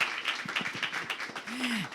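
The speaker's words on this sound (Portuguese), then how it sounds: "por favor, gente, por favor, uma salva de palmas aqui" Scattered, fairly faint audience applause at a leadership and soft skills forum, thinning out, with a brief voice sound rising near the end.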